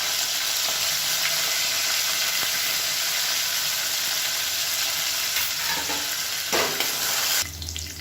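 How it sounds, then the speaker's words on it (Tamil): Curry leaves, mint and coriander sautéing in hot oil give a dense, steady sizzle and crackle close by, with brief stirring scrapes near the end and no talk. "இப்போ எல்லாமே நல்லா வதங்கிருச்சு நல்ல ஒரு ஃப்ளேவர் வருது"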